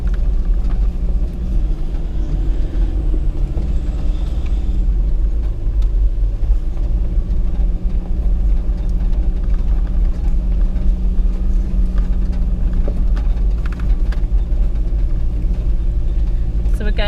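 A car in first gear descends a steep forest track, its engine giving a loud, steady low rumble throughout, with occasional knocks and creaks from the terrain and people talking over it now and then.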